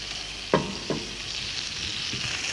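Frog legs frying in butter in a pan, a soft steady sizzle with two brief utensil knocks near the start.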